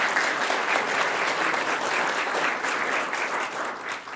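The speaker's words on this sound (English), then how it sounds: "Give him a round of applause, please." Steady, dense audience applause at a local Republican party political forum, a roomful of hands clapping continuously and fairly loud for about four seconds, easing slightly near the end.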